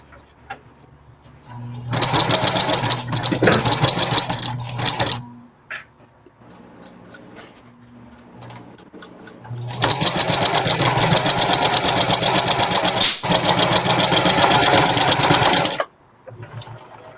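A sewing machine stitches a seam of a reversible bucket hat, with loud running bursts of rapid stitching separated by quieter pauses and lighter intermittent clicks.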